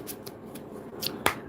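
Playing cards are shuffled by hand in a quick series of crisp riffling snaps, close and fairly quiet, ending in a sharper slap, with no talking.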